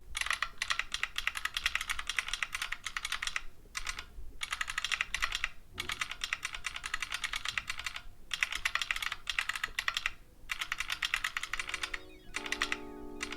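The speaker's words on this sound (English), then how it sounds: "Yes, you get the typing sounds as well." Fast, clacky typing sound effects from an Android phone keyboard app, steady bursts of keystrokes with brief pauses, close up, ending with a short electronic tone.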